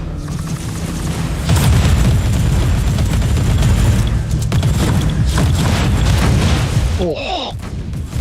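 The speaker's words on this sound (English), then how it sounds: "The Marauder bombers are launching a second wave of bombardments." Heavy video-game bombing run from Marauder bombers in a co-op campaign mission: a sustained rumbling barrage of deep booms and blasts rolling on continuously, briefly easing near the end, with a voice talking over part of it.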